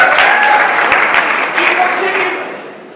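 Audience applause at a talk series event after a mention of the sponsor Chick-fil-A, a dense wash of clapping from a room full of people that holds steady, then gradually thins and fades toward the end.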